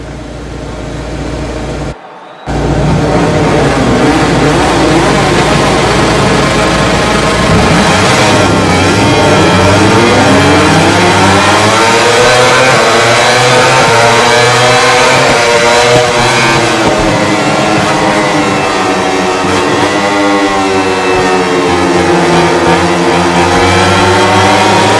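A MotoGP field roars off the start of the Qatar Grand Prix at Losail Circuit, with loud engines revving together and rising and falling in pitch as the race motorcycles accelerate away after a brief drop in sound.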